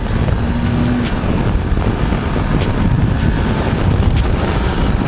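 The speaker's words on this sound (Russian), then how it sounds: "Да, ветер очень сильный," Strong wind roaring over the microphone while riding a BMW G310GS motorcycle on an open road, a loud, steady buffeting rush mixed with engine and road noise throughout.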